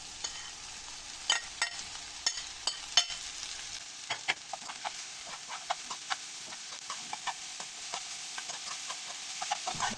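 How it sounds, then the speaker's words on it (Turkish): Mushrooms sizzle in a pan, a moderate crackling fry with scattered sharp pops and stirring clicks, settling into a steadier, softer sizzle. "Şimdi mantarlarımı ekliyorum."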